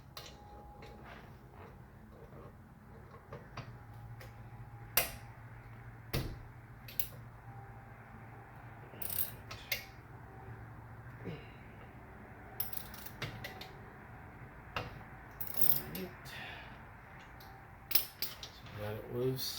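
A wrench works loose a brake caliper bolt on a Cadillac SRX during a brake and rotor job, with metallic ratcheting clicks and sharp clinks spread across a quiet garage background, plus a low steady hum.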